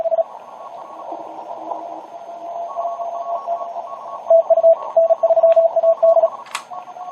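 A steady HF radio transmitter tuning tone hums under crackling static, then chopped keyed bursts and a short sharp tuning squeal near the end.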